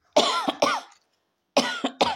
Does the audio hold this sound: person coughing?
yes